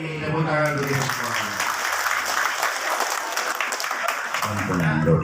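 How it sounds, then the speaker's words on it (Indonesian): A crowd applauds at a campaign event in Desa Adat Renon, sustained clapping that fills the middle of the clip, bracketed by a voice speaking at the start and end. "Tepuk tangan dulu semua."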